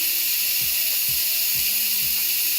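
Steam hisses steadily from a pressure cooker during lamb ragu and pork bolognese cooking, a loud continuous broadband rush with faint low thumps beneath and no talk.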